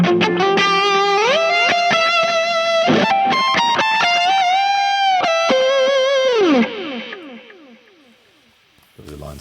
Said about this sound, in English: There's a line 6 echo.